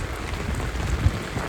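Heavy monsoon rain pours down on a farm field in a dense, constant wash of noise, with a soft low thump partway through and no voices.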